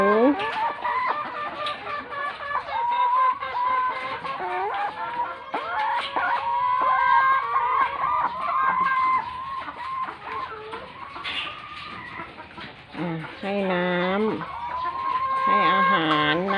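Hungry hens cluck and a rooster crows around a backyard egg-laying coop at feeding time, a busy overlapping chorus of clucks and calls, with someone talking now and then.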